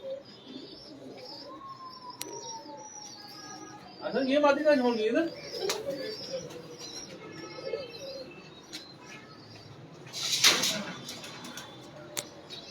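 Pigeons coo in soft throaty bursts in a rooftop loft in Sialkot, close and clear with chirps and a brief wing flutter, while someone talks over them.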